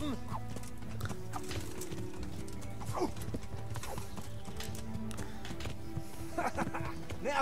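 Rhythmic hoofbeats of a horse trotting in the video game Kingdom Come: Deliverance, close and steady, with occasional whinnies, over a low game background.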